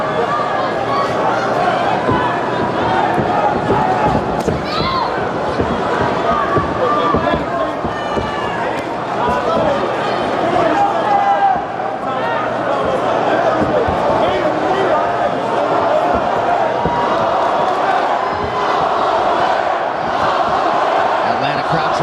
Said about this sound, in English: Atlanta crowd trying to get behind Max Holloway here